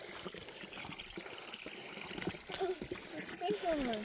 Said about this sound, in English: Nice little spring water here at the picnic area.